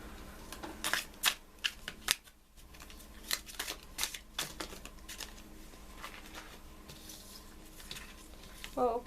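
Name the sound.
shuffling a Wild Unknown Tarot card deck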